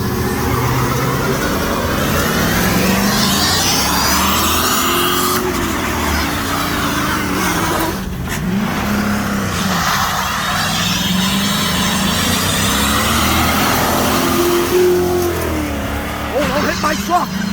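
A GMC Sierra pickup truck does forward and reverse burnouts, its engine roaring loud and close with rising and falling revs and tire squeal throughout, while people talk over it.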